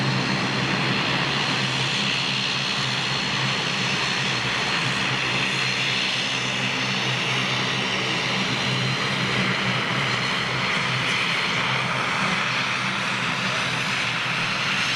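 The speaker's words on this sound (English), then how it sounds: "it might actually be the prop pitch, the audio that we can hear as it rolls out down the runway" A propeller aircraft rolling out down a runway at a big-jet flyby event gives a steady, loud engine and prop drone with a low hum that stays constant throughout.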